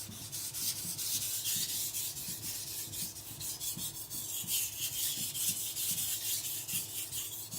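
Steady rhythmic scraping of a Tojiro white steel shirogami nakiri being thinned on a sharpening stone, repeated back-and-forth rasping strokes, close and fairly quiet.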